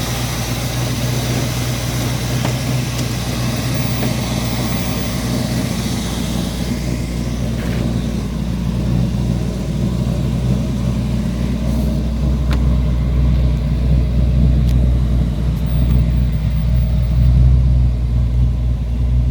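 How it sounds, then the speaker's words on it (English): A 1939 Chevy hot rod pickup with a 350 V8 idles steadily and close by, a deep, throaty, low continuous exhaust burble with no talking. "Nice rumble coming out of the exhaust."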